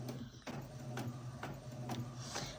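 A home printer printing photos, with a steady mechanical whir and a regular rhythm of feed clicks about every half second, close and moderately loud, with no talking.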